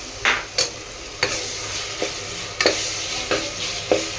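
Onions with ginger garlic paste are stirred in a frying pan, giving a quick series of about eight spatula scrapes and taps over a bubbling sizzle, close up with no talking.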